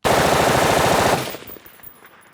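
A gun in Counter-Strike fires a loud, rapid automatic burst for just over a second, then stops abruptly, leaving a fading tail of echo and faint clatter.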